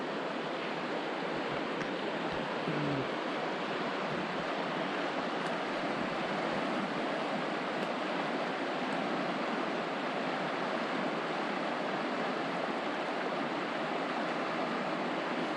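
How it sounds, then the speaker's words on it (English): Rushing water of the Columbia River filmed on a GoPro at a riverside spot, a steady broadband roar with no talk, some wind buffeting the mic throughout. "let me show you the river here on the GoPro"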